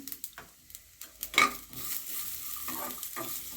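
Garlic and ginger sauté in a pan for broccoli gravy, soft clinks and stirring taps at first, then a quiet, steady sizzle that rises and holds.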